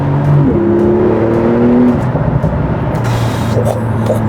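Techart-tuned all-wheel-drive Porsche weighing about 1600 kg rolls over cobblestones, a loud continuous engine drone with a rising then steady tone and a faint rumble of tyres on the stones.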